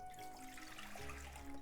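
Water poured into a pot for kabocha squash miso soup, a soft continuous splashing stream at low level that grows slightly fuller partway through, with no talking.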